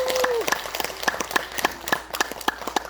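Seminar audience at a cancer health talk claps to welcome the speaker, a sparse and uneven patter of individual claps over a few seconds following a brief sung or spoken tone, moderately close.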